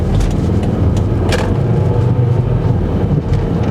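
A 2004 AWD Volvo XC70 engine drones steadily up close, with a brief rising whine partway through as the revs climb and the gears shift, loud and continuous throughout.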